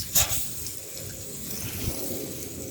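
Water pours steadily from a can or hose onto newly planted spring onions on a UK allotment, a continuous close splashing rush with a brief sharper spatter at the start and no talking.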